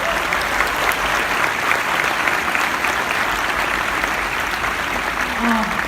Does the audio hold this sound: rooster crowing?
no